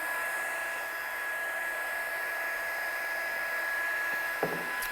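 A heat gun blows over embossing powder on artwork, a constant close whooshing hum with a high whine, steady and loud, ending in a small knock.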